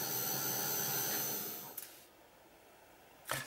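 A dryer blows a steady loud hiss over blue paint on an art journal page, then cuts off, leaving quiet room tone before a brief click-like burst at the end.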